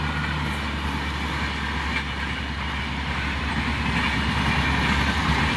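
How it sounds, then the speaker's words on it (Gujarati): A train passes along railway tracks near farmland, a loud, steady rumble with rhythmic wheel clatter that holds close and constant throughout. "ટ્રેન આવે છે જુઓ તમે"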